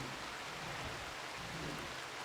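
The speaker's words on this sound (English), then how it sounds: "We seem to have a bit of a rainy season going on right off the bat." Rain falling in the video game RimWorld during a rainy season, a faint, even hiss of steady rainfall with no other sounds over it.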